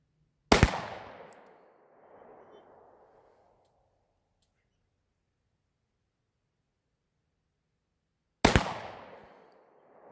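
Two sharp, loud 9mm pistol shots of Remington range ammunition, one near the start and one near the end, each trailing off in an echoing decay across an outdoor range with silence between.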